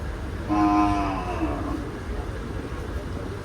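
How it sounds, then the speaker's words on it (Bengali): At the Gabtoli cattle market, a single cow gives one drawn-out, fairly close moo that rises and then fades, over a low background murmur of the crowded market. "চমৎকার সাইজের গরুগুলো"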